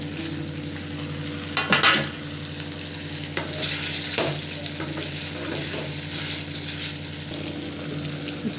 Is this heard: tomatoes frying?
yes